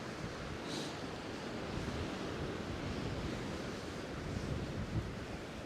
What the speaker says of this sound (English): Look at the wind push the sand around.